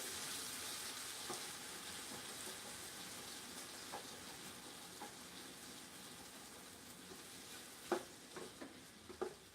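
Taco filling sizzles quietly in a pan after the heat is turned off. The soft hissing fades over several seconds, and a few light clinks and taps come near the end.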